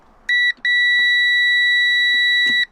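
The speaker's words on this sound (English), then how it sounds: "you turn on that tap, and if it beeps, then the switch is working fine" A continuity tester beeps in two steady electronic tones while a van's micro switch is being tested, first a short beep and then a long held one of about two seconds. Faint handling noises sit beneath it.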